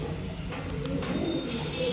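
Madras high flying pigeons coo in a low, steady, continuous murmur close by, with a faint bird call or two above it and no talking.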